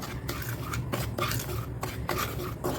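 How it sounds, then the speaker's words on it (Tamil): Semolina and ragi flour dry-roasting in a pan over medium flame, stirred with a spoon that scrapes and taps the metal in a steady rhythm, close and moderately quiet. "இந்த ரவாவையும் ராகி மாவையும் சேர்த்த மாதிரி நம்ம வறுத்து எடுத்துக்கலாம்"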